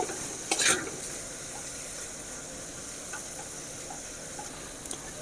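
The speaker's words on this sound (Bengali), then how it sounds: "সবজিগুলো ভাজা হয়ে গেছে," Mixed vegetables with capsicum fry in a wok, giving a steady soft sizzle with a brief clatter of stirring near the start and a few faint scrapes later.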